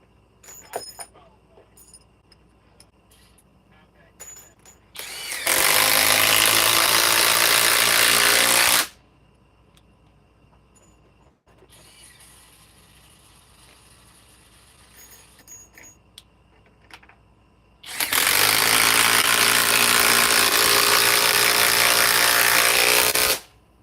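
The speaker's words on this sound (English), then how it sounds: "let's run these 5-inch power lags. I'm going to use the compact impact wrench first." A compact impact wrench drives 5-inch power lag screws in two loud, sustained bursts of several seconds each, separated by a quieter stretch of faint workshop noise.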